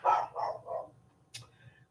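A dog barks three times in quick succession at a mailman arriving, fairly close but moderately loud, followed by a softer yip as the barking fades.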